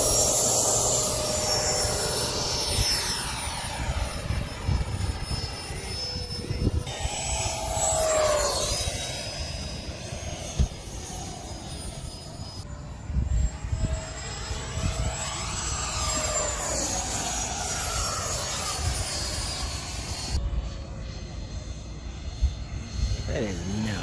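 RC model airplanes and jets fly overhead at an air battle event, their engines whining and sweeping past repeatedly with rising and falling pitch, loud and near, along with wind and outdoor noise.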